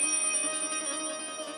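A bell rings in repeated metallic strokes, loud and ringing on with a sustained tonal shimmer through the short stretch, heard alone without talk.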